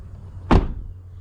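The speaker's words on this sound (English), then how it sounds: "Even when you open the back doors, listen to that." Rear door of a GMC Yukon with a Duramax swap, a single short solid thud as the door is worked, close and brief over a low idle hum.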